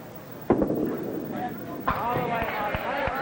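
Duckpin bowling ball striking pins to pick up a spare in a pro tour final match, giving sharp clattering crashes followed by scattered pin knocks, heard under a commentator's voice.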